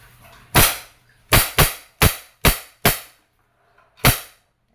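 An Umarex Beretta PX4 Storm blowback airgun fires steel BBs, seven sharp, loud, close cracks in an uneven sequence, with a longer pause before the final shot.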